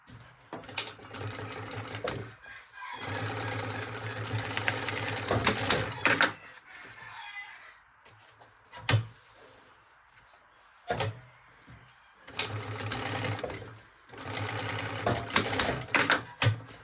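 A sewing machine stitches a handbag strap onto a flap-top (drawstring) backpack, running in several loud bursts of rapid mechanical whirring separated by pauses with small clicks and handling noises.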